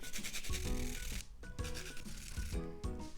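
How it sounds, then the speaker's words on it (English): A vegetable is grated on a hand grater for a Korean namul side dish, giving repeated rasping strokes in a steady back-and-forth rhythm, close up and fairly quiet. "Then we're gonna grate this using a grater."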